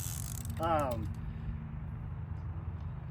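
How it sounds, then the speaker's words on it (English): A brief ratcheting clicker burst from a Ming Yang CL60 fishing reel rattles for about half a second over a steady low hum, then only the hum continues. "Pretty loud clicker on these as well."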